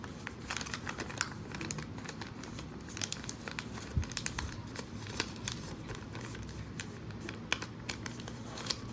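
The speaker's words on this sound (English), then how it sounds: "Fold the top flap down and tuck it underneath the button. Give it a good crease all around." Paper being folded and creased into an origami envelope, with close, quiet crinkling and crisp rustling in irregular bursts, alone without speech.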